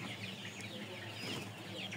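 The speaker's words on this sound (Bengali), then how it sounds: "এখানে 1000 কালারবাট মুরগি আছে।" A flock of about a thousand colour broiler chickens, a month old, clucks on a poultry farm, a faint steady chorus of overlapping calls with a distant hum and no voices.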